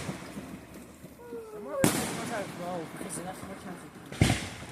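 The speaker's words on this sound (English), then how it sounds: "Record 5 minutes of fireworks." Fireworks burst at a small backyard-style show, with two sharp, loud bangs and crackling between them, while people talk and exclaim close by.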